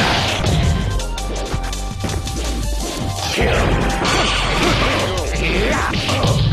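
Dudley's Corkscrew Blow punch in Street Fighter III: 3rd Strike lands as loud smashing hits and whooshes, amid dense, continuous fighting-game effects and music.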